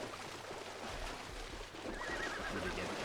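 A horse whinnies in the survival game Ark, a rising, wavering neigh near the end over a steady background of ambient game noise.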